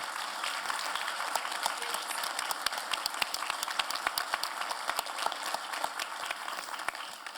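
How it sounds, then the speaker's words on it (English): An audience at a memorial symposium claps, a sustained round of applause with dense individual claps at moderate level and no talking over it. "So let's give everybody a round of applause,"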